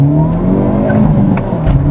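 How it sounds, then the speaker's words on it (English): A Hyundai Elantra N revs hard under full acceleration, a loud, steady roar with rising harmonics that holds throughout, close and unbroken. "Let's do a full throttle."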